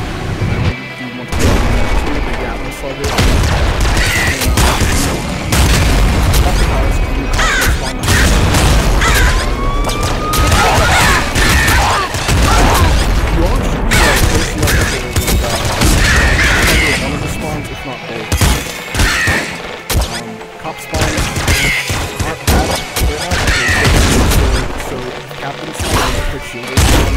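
Laser pistol fire in a video game aimed at a Gatling Slugger enemy: loud, dense, continuous blasts and booming impacts layered over busy game effects for the whole stretch.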